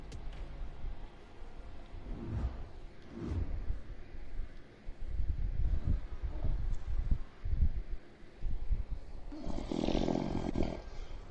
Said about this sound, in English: You snoring right now